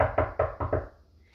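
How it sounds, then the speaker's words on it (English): Five quiet, evenly spaced knocks on a wooden front door, close and hollow-sounding, each dying away quickly before the room falls silent. "Mr. Cream heard a quiet little knock on the front door"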